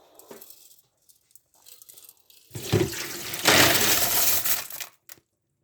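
Dirty aquarium water, thick with fish waste, is poured out in a loud steady splashing rush lasting roughly two seconds, preceded by a few softer drips and trickles.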